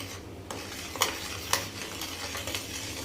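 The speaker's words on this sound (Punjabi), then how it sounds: "ਚੰਗੀ ਤਰ੍ਹਾਂ ਆਪਾਂ ਇਹਨੂੰ ਹਿਲਾਵਾਂਗੇ" Spiced chutney stirred in a pan with the gas turned off, a soft close scraping with a few sharp clinks of the spoon against the metal, faint and steady.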